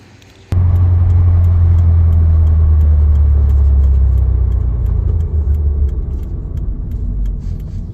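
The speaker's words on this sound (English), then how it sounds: "I'm gonna let her idle for about 5-10 minutes" A Subaru WRX turbo engine with a misfire idles close by, starting abruptly with a loud, steady low rumble that holds throughout, dipping slightly in level partway through, with no talking.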